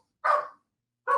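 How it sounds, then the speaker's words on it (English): Two sharp barks from a dog indoors, separated by a short silence, moderately loud and close with no talking. "Sorry about the dogs."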